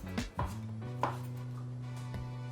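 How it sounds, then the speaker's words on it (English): A knife finely dices pickle on a cutting board, giving a few sharp close chops spaced irregularly over a quiet steady hum. "then it's half a cup of finely diced pickle for the mix-in"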